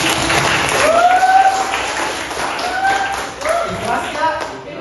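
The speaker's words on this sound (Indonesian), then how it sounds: "Beri tepuk tangan." Group applause after the winning team is announced at a school debate session, irregular clapping mixed with taps and thuds while people talk and a voice rises over it.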